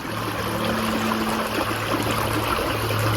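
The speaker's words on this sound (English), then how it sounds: "And look, flowing water." A continuous rush of flowing creek water, steady and fairly loud, with a faint tonal hum underneath.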